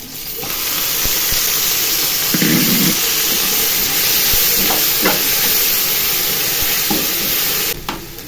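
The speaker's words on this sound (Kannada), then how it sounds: "ನಾವು ರುಬ್ಕೊಂಡಿದ್ದೀವಲ್ಲ ಮಸಾಲೆ ಹಾಕ್ತಿದ್ದೀನಿ ಇವಾಗ" Freshly ground masala paste hits a hot pan while cooking chicken dry, giving a loud, steady sizzle and hiss that runs throughout, with a few soft scrapes and knocks from stirring.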